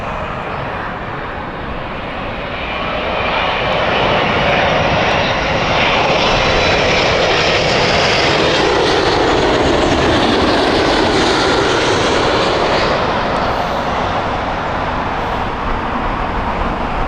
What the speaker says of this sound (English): we now have British Airways inbound next with the 777 coming in from Nashua